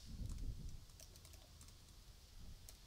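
Typing on a computer keyboard, a quiet run of light, irregular key clicks that is faint and close up, with a soft low thump at the start.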